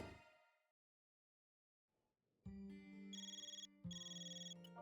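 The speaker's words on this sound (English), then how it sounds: "Phone call." A phone in Trails Through Daybreak 2 starts a call with a rapid, bright electronic trill, ringing in two bursts after a short silence, loud and clear with no talk over it.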